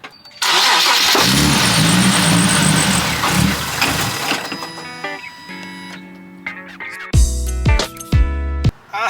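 A roughly ten-year-old Nissan 370Z engine starts with a loud burst of exhaust, then idles before a few sharp revs rise and fall near the end, with beeping chimes in between.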